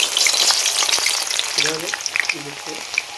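Moong dal frying in hot oil crackles with a dense, steady sizzle close by, and a few brief tonal blips rise over it near the end.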